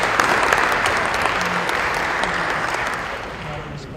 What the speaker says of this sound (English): one big round of applause for everybody.